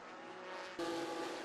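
Dash-series race cars lapping the track at Lonesome Pine, a faint steady engine drone that swells suddenly as cars close in, with a brief tonal tyre squeal.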